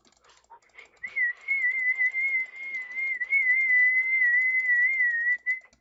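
A person whistles a single sustained, slightly wavering tone for several seconds after a few short chirps, fairly close and alone in an otherwise quiet room.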